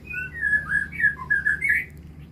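A white-rumped shama (murai batu) calls in a run of clear, varied whistled phrases, close and fairly loud over a faint low background hum.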